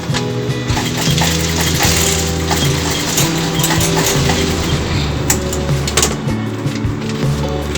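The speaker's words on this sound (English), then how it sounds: "Now you can stitch armhole dart." A sewing machine stitching an armhole dart on a blouse makes a loud, close, continuous mechanical drone with a rattling texture, running steadily throughout without talk.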